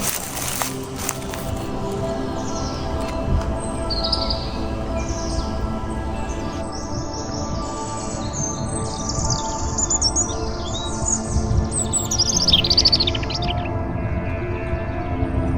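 Birds, including European robin, woodpecker and Eurasian wren, chirp and call in the high register over a steady, rumbling forest background near Istanbul, with several overlapping tweets rising toward the end.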